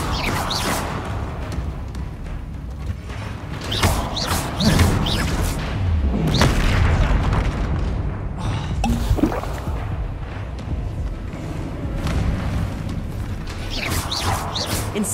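Explosive spells in the video game Hogwarts Legacy go off in a busy battle, several booming blasts, crashes and thuds layered with swooshing effects, loud and close, while a voice shouts spell names over the action.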